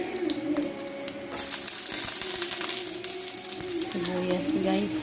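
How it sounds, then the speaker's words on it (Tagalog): Garlic frying in hot cooking oil for pansit, a steady close sizzle with a brief louder burst of crackling partway through, heard under a talking voice. "nilagay ko na yung mantika, bawang"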